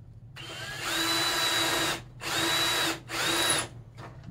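Three bursts from a power tool, each lasting about a second and split by short pauses, loud and close, while an aluminum tool case is riveted together.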